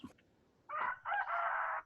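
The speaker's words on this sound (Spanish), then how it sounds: "Comenzó ese gallo" A rooster crows nearby, a loud two-part cock-a-doodle-doo that rises and then holds, alone after a brief faint noise.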